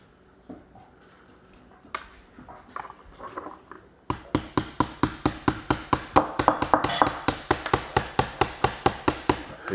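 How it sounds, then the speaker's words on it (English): Hammer blows drive a wheel onto a toy airplane being built, first a few scattered, quieter taps, then a fast, regular run of sharp, loud strikes close by. "Are you hammering in solidarity?"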